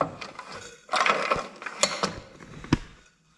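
A recoil starter on the small engine of a Bolens JLO Rockwell 290 tractor being pulled through, giving close ratcheting, whirring mechanical clicks and a few sharp knocks before it falls quiet.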